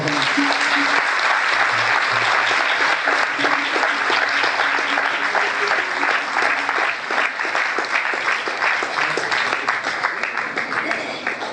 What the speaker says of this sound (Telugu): అందరూ చప్పట్లు పెట్టి ప్రేమతో